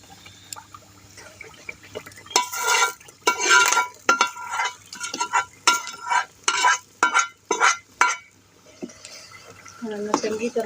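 A tadka of tempered spices fries in a pan for sarson ka saag while a spoon stirs it in a run of rhythmic scraping and clattering strokes over a low sizzle, close and fairly loud.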